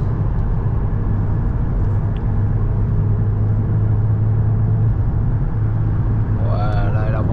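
A two-year-old Cupra with a weak turbo drives along with a steady, loud engine rumble and road noise throughout; the pitch barely changes as it speeds up, and a brief higher tone appears near the end.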